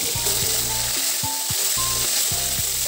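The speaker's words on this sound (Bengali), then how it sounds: "এমন করে মই সব মাছগুলো ভাজি নিই" Katla fish pieces frying in hot oil in a pan, a steady dense sizzle at close range with a few faint crackles, nobody speaking.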